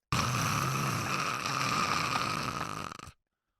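A person imitates one long, rasping snore held for about three seconds at an even level, then it cuts off abruptly.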